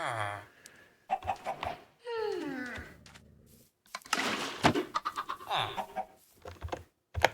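Chickens cluck in the video game Minecraft, several short bursts of clucks and squawks recurring across the clip, close and fairly loud, with someone speaking at moments.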